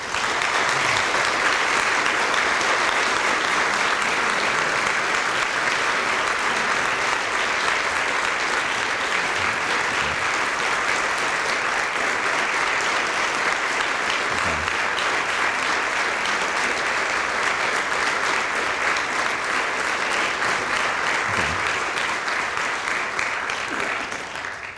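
Sustained audience applause congratulating Phi Beta Kappa inductees at a university convocation, a dense, steady roar of many hands clapping for the full stretch without pause.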